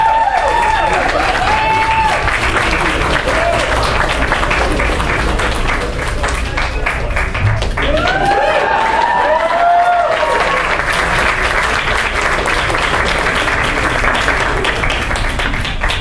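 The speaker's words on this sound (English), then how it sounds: "another round of applause for this fine work, please" Applause from an audience at a costume contest, a broad sustained patter of many hands with light cheering and voices mixed in, steady and fairly loud throughout.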